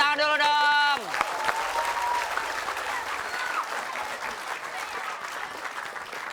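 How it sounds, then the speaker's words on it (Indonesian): A comedy show audience breaks into sustained applause that starts after a brief musical tone and carries on steadily, loud and dense, with some voices mixed in. "tepuk tangan dulu dong"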